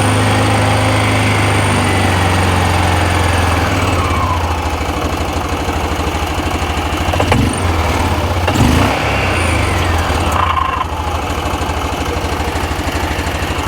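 2021 Axis 500 running with a steady engine drone and whine, a rough grinding texture as it decelerates, loud and close with no talk.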